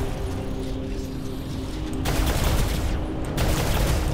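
A mech's charged space shot weapon fires in War Robots, with a steady mechanical hum giving way to sudden loud bursts of rapid, dense gunfire-like blasts that start and stop abruptly.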